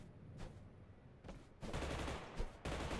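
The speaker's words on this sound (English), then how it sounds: "So, we hear gunshots over here, multiple sets of gunshots." Distant gunfire in the video game Totally Accurate Battlegrounds comes in scattered single shots and then longer rapid bursts from several guns. It is faint and far off.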